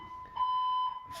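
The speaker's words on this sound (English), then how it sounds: "Again with the fire alarms." A fire alarm sounds in the early morning, a single steady electronic beep about half a second long, fairly faint, with a quiet room around it.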